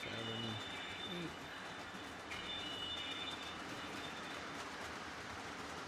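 A model train pulling thirteen cars runs along its track with steady rolling rumble, faint clicking and occasional wheel squeal, fairly quiet and continuous.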